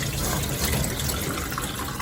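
Japanese rice being rinsed with water, a steady close hiss of running and pouring water with no voices.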